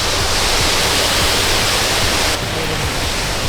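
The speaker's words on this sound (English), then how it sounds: "there's a massive waterfall here" A massive mountain waterfall in Japan roars continuously nearby, a dense, loud broadband rush that holds steady throughout with no clear voices.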